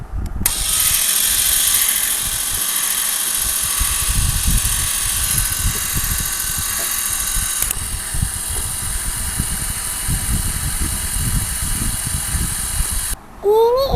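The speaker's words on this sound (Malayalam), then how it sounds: "ഇത് നൂൽപുട്ട് മെഷീനാ. ഇത് ഞാൻ തുറന്ന് കളിച്ചു തരാം" An electric nool puttu string hopper machine runs with a loud, steady whirring gear and ratchet drone, close by, before it stops and a click follows near the end.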